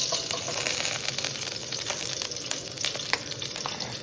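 Okra frying in oil in a pan gives a steady, dense sizzle and crackle close up, constant throughout with a few brief sharper pops, and no voices.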